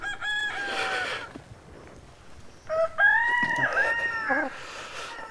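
Backyard chickens with a rooster crowing loudly and close by, two crows separated by a pause, with occasional soft clucking in between.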